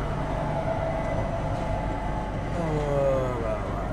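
A goods train rumbles steadily past, a continuous low roar with rolling wheel noise and faint squeals, loud and close throughout.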